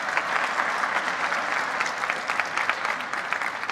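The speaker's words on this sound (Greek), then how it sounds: "Ένα χειροκρότημα, παρακαλώ" Continuous, energetic applause from an audience at the SNFestival 2019 program presentation, crisp dense clapping with no voices over it.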